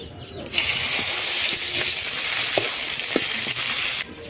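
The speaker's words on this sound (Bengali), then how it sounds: "মাছগুলো ভেজে নিয়ে তেল দিয়েছি, এবার দিয়ে দেবো পেঁয়াজ কুচি।" Chopped onions hit hot oil left from frying dried fish in a wok and erupt into a loud, steady sizzle that holds for several seconds, with faint stirring knocks, then cuts off abruptly near the end.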